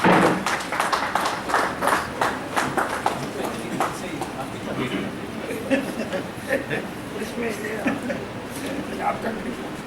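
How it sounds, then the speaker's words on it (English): An audience applauds at a university leadership conclave as a dignitary is honoured, with scattered, uneven clapping that rises and fades under ongoing talk from people nearby. "Let's have a huge round of applause for him."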